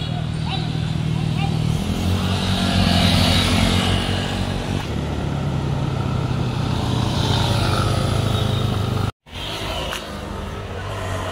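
A motorcycle engine runs steadily and loudly up close, with a low droning hum, a short dropout near the end, and people talking and cheering over it.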